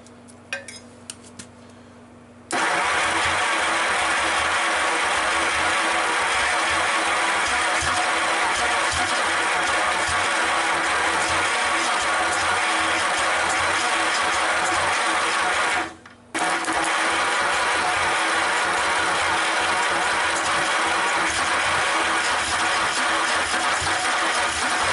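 An American LaFrance fire engine's Lycoming V-12, restarted after years unused, cranks faintly and then catches, settling into a loud, steady mechanical run with a brief cut near the end before running on.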